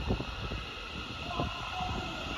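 A Class 380 train rumbles past at Paisley Gilmour Street station, a steady close whoosh of rolling wheels and hiss with faint rhythmic clatter.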